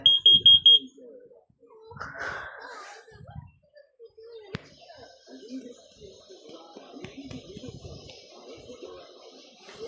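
A home smoke alarm runs through a smoke test, giving a few sharp, loud high beeps at the start, followed by quieter handling noises and a voice speaking in the room.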